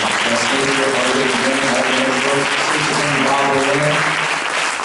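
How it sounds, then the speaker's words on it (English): Sustained applause from a panel audience at a heroin epidemic forum, a dense steady wash of many hands clapping at full loudness throughout, with a faint murmur of voices underneath. "I want you to give a big round of applause."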